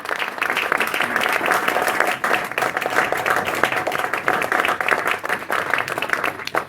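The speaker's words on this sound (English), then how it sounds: "join me very quickly in a round of applause for our host, Acumen" A conference audience applauds host Acumen on its fifth anniversary, with sustained, fairly loud clapping from many hands and a faint steady hum beneath it.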